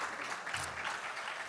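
At an ADRC meeting the audience gives a short round of applause, a dense, faint wash of clapping that carries on without a break for about a second and a half.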